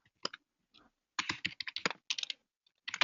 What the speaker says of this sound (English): I'm just going to type that.